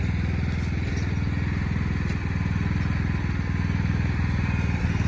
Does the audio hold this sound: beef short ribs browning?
no